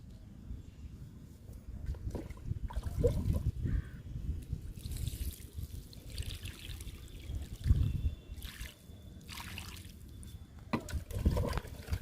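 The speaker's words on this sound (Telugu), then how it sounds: "ఇప్పుడు వాటర్ ఇస్తానండి" Water is poured onto the soil around a newly planted ridge gourd in a tub filled with garden waste and soil. Faint, intermittent trickles and splashes come in short bursts, close by.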